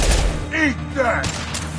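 A concussive shot fired in the game Mass Effect 2 lands as a single heavy blast at the start, followed by a burst of combat noise and voices talking.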